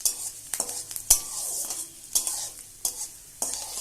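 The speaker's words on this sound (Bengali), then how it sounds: "রসুনগুলো দিয়ে দিলাম তেলের মধ্যে।" Chopped garlic frying in oil with a soft sizzle, broken by repeated sharp scrapes and clinks of a spoon stirring against the pan.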